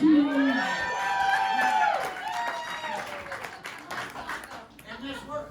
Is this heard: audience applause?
yes